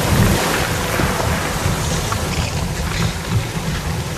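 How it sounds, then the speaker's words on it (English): Water rushing like a river behind a rock wall deep underground, a steady broadband roar that stays loud and even throughout with no voices. "There was a loud sound behind the wall next to us. It sounded like the water of a river."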